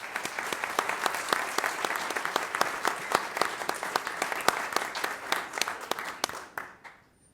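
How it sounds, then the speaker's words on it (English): A steady round of audience applause at a school district recognition event, with dense clapping close and continuous for about seven seconds before fading out, voices barely present. "And if we could give them a round of applause too,"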